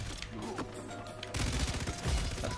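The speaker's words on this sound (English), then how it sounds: "I'm firing at the doorway for the first person" Weapon fire in the video game Far Cry 3, a muffled stretch followed by a louder run of rapid, rattling shots close up, with mechanical clicks mixed in.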